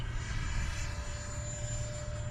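FMS Integral 80mm electric ducted fan RC plane in flight, a steady loud whining rush with a constant high tone that holds level throughout, with no voices.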